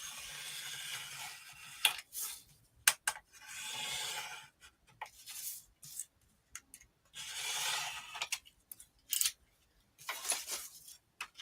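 Knife cutting through paper for a glue craft, a series of close crisp scraping strokes and short ticks in irregular bursts separated by pauses.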